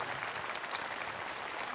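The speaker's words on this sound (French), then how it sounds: "Applaudissements, s'il vous plaît, pour Ross Marquand" Quiet, dense clapping from a convention audience at TGS Toulouse 2021 greeting actor Ross Marquand, a continuous wash of many hands heard from a distance.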